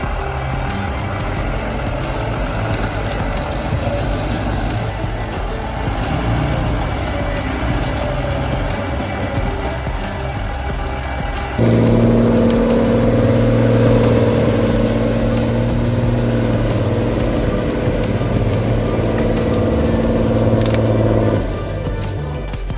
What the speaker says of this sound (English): We watch a green tractor making its way through the forest while carrying a load of logs.